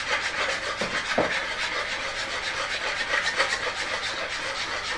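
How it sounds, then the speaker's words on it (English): Four eggs whisked by hand for a coconut chiffon cake, a steady rapid scraping and rubbing rhythm against the bowl, close and continuous with no talking. "Whisk it."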